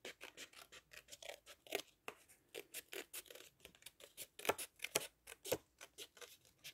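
Scissors snipping a strip of paper for a handmade card, a close series of crisp, irregular cuts and short slicing scrapes with no voice over them.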